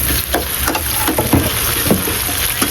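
Tomatoes drop into a hot pan of sautéing chicken curry with coconut milk, giving a steady close sizzle and frying hiss with a few stirring scrapes and soft bursts throughout.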